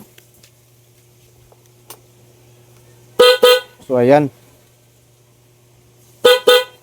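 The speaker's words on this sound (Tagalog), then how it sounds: "Subukan natin yon, tapos si horn." Motorcycle horn, just rewired through its relay, gives two short sharp double honks a few seconds apart, with a brief spoken phrase between them in an otherwise quiet space.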